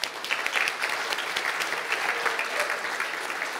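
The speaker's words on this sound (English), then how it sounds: "clap for you" A congregation applauds graduates at a church worship service, steady clapping throughout at moderate volume, dense and even with no voices standing out.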